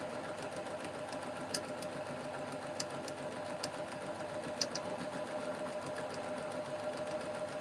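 A sewing machine runs continuously at a steady pace, its rapid mechanical stitching whir close and even, with a few faint clicks along the way.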